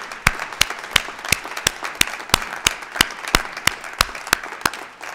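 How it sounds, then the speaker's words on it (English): At a university graduation ceremony, graduates applaud the family and friends who supported them. The clapping is rhythmic and evenly spaced, with a sharp distinct clap about every third of a second over a softer bed of scattered claps in a large hall. "Stand up and turn around, salute and applaud all those family members and friends who have supported you"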